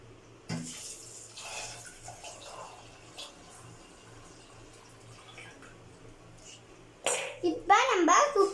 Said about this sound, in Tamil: அப்புறம் ஒரு சொம்பு தண்ணி இதுல சேர்த்துக்கலாம்.